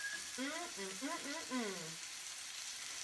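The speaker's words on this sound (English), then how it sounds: "And you can hear the sizzle" Shrimp sizzle steadily in a hot pan, a faint hiss throughout, while a voice speaks briefly over it.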